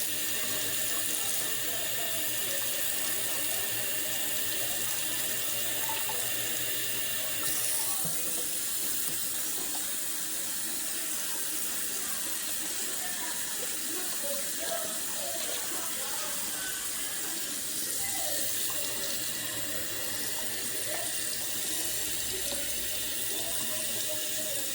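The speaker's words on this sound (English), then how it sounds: "I'm gonna add the water inside my beef broth box." Tap water runs steadily into a beef broth box in a home kitchen, a constant close splashing rush that holds for the whole stretch with slight shifts in tone and no talk.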